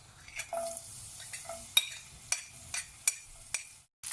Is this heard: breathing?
no